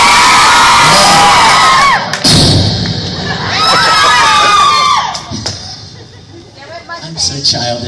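Convention crowd at an anime con in Louisville cheering, whooping and shouting loudly, with bursts of excited yells and a thud, the noise swelling and fading over several seconds.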